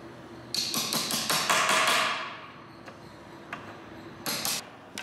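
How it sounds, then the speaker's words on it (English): Brass insert being set into Corian solid surface with a setting tool: a quick run of sharp metallic taps and knocks, close and moderately loud, then a few lighter taps after a pause, with no talking. "That's to set the brass insert into the material."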